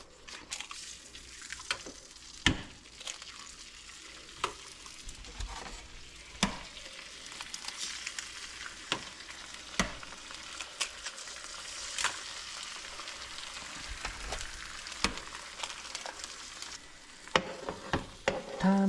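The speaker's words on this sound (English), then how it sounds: "So now we're gonna cook the eggs after we finish cleaning the grill." Eggs frying in butter on a grill sizzle steadily and crackle close up, broken by irregular spatula scrapes and taps throughout.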